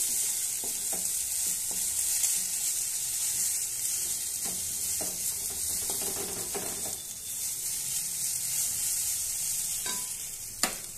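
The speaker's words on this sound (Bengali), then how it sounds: "এবার গ্যাসের ফ্লেমটা হাই করে দিয়ে খুব ভালোভাবে একবার ভেজে নিচ্ছি" Neem leaves and potatoes frying in oil over a high flame, a steady loud sizzle with stirring scrapes and occasional spatula taps, close up, with no talking throughout.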